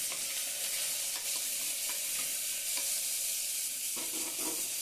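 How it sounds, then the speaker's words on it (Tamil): Crushed garlic and tomato sauté in a pan with a continuous close sizzle, interrupted by soft scraping as the mixture is stirred. "அதை நல்லா வதங்கின பின்னாடி தக்காளியும் நம்ம போட்டு வதக்கிக்கலாம்."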